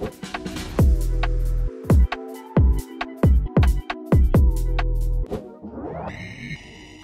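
A rap track with heavy bass kicks and a choppy beat plays loudly, stopping and starting in bursts before a synth tail at the end.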